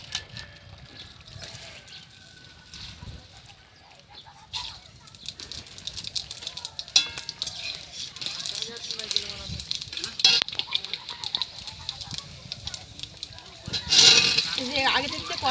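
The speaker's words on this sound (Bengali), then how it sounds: "এই যে পাঁচফোড়ন দিয়ে তেলে দেবো।" Panch phoron spices crackle and sizzle in hot oil in a home kitchen, a faint steady frying hiss with small pops, rising louder toward the end while a person talks over it.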